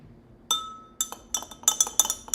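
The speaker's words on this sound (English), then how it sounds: "So I'll just stir that a little bit more." A spoon stirring a melted salve mixture in a glass container, giving several bright, close clinks that grow quicker and scrape against the glass as the stirring goes on, with no talking.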